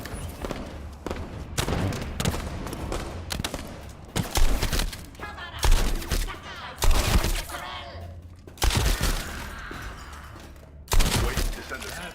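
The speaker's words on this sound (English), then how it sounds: "I'm using a devastating shotgun right now" Repeated heavy shotgun blasts in The First Descendant, loud booming shots fired in quick clusters with crunching impacts and bursts of gunfire between them, and someone talking over the action.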